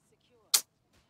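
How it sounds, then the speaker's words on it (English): A single sharp, punchy blast from the Spitfire cannon in the shooter game Disintegration, close and loud, dying away quickly against near silence. "This Spitfire cannon."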